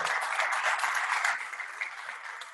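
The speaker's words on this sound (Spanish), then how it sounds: "Un fuerte aplauso, por favor." Audience applauding at an award ceremony for a resort receiving awards, a bright, close burst of many hands clapping that fades gradually toward the end, with no talk.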